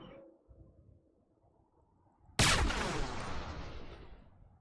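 A single loud gunshot in a video game, fired through a floor, cracks out after a quiet stretch and leaves a long, fading echo.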